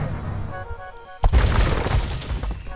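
Cannons fire during a siege on Kyoto in Age of Empires 2: The Conquerors, one sharp heavy boom bursting out of the battle noise, followed by a rumbling, crackling tail of impacts.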